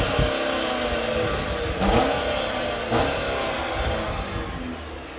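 A 2014 Jeep Patriot with a 6-speed automatic cruising on a rainy drive, its engine holding a steady mid-pitched hum under road and rain noise, with two brief swells as it pulls along.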